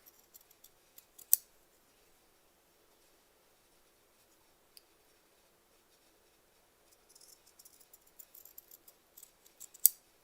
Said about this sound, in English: let's get the pinking shears. Cut little notches out of there.